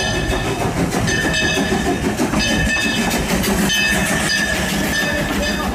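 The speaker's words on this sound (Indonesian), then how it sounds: "Ini kereta api lokomotif." A red toy locomotive train runs in a steady, continuous mechanical rattle with a faint repeating whine and clicking, loud and close throughout, with no talk.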